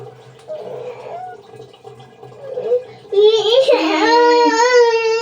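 A small child at a sink spits out water after rinsing her mouth, a short wet sputter among gargling noises, followed by a loud whiny cry or protest as an adult speaks nearby.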